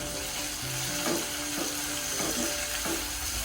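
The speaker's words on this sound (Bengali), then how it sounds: "অপেক্ষা করবো পেঁয়াজ বাদামি হওয়া পর্যন্ত।" Onions frying in oil in a pan give a steady, even sizzle that runs through the whole stretch, with a few soft stirring scrapes on top and no voices.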